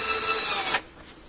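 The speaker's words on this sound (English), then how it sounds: "these cordless drills are quite handy for" A cordless drill whirs loudly and close for under a second, a bright steady motor whine, then cuts off abruptly and leaves a quiet workshop hush.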